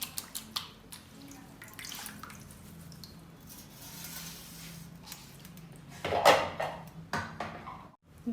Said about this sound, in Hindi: सबसे पहले पत्तियों को पानी में डाल के अच्छे से धो लें